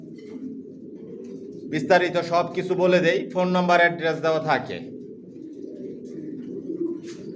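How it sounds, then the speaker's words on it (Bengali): Pigeons in a racing pigeon loft give low, steady cooing throughout, running under a man's close speech and continuing on their own before and after he talks. "কোয়ালিটি সম্পন্ন কবুতর পালি"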